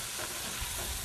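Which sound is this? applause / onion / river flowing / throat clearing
onion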